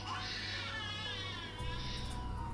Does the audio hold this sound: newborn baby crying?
yes